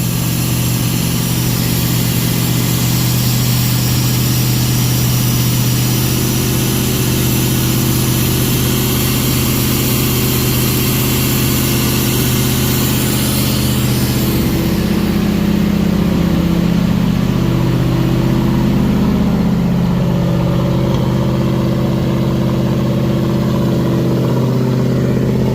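A swapped engine in a 1951 Mercury idles loudly and steadily up close with a deep, even rumble. The pitch shifts slightly partway through, and no voices are heard.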